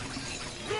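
Brief shattering crash of an object smashed in a PS4 game, a single short burst of breaking noise.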